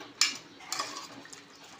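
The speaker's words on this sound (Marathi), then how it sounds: "आता परत एकदा ढवळून घ्या" A spoon stirs a vegetable curry with garam masala inside a pressure cooker, making a few faint metallic scrapes and clinks against the pot, with quiet gaps between the strokes.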